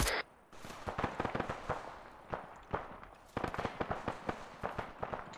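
Gunfire in the Arma 3 video game, a string of sharp close and distant shots cracking in irregular bursts over about five seconds, some single reports and some quick clusters.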